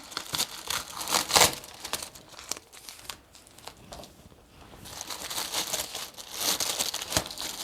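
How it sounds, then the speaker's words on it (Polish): Paper packing tape peels off a cardboard parcel while a box of plants is unpacked, giving a run of close, crinkly tearing and crumpling bursts, loudest at the start and again toward the end, with a quieter stretch in between. "Taśma papierowa, która fajnie odchodzi."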